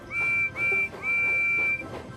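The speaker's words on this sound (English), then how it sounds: "It has a very shiny brass whistle that sounds like this." Percy the steam engine's shiny brass whistle gives two short, shrill blasts and then a longer held toot, bright and clear against a quiet background.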